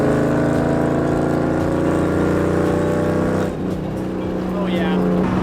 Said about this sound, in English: This car is so freaking loud, especially on the highway.